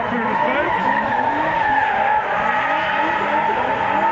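BMW drift car at a night drifting event at Fritidsparken in Skien, sliding with a continuous loud tire squeal and howling engine, close and sustained, with a commentator talking over it.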